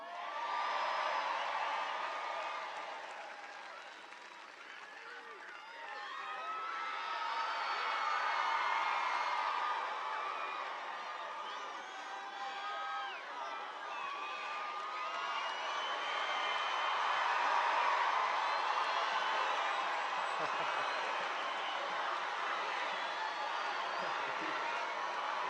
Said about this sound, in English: I want everybody to give a huge round of applause to Scott for that